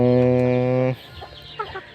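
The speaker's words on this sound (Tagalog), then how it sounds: "ito na pala yung ating Rhode Island chicken ngayon" A Rhode Island chicken gives one loud, drawn-out call lasting about a second, followed by softer scattered clucks and rustling, close by.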